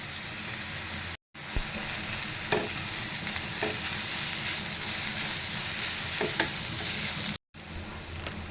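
Vegetables and carrots sauté in a pan, a steady soft sizzle with light stirring scrapes and a few clicks of the utensil, fairly quiet and close, with two short silent breaks.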